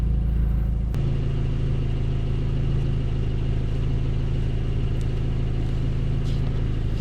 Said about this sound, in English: I got the valves closed just so you guys can hear what the car sounds like while it's closed